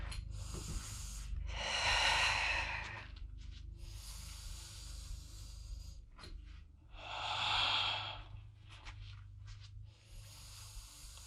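Heavy exercise breathing during a no-weights workout with a bag pulled overhead: two long, loud breathy exhale-inhale cycles, close and unhurried, with soft shuffling between and no talk.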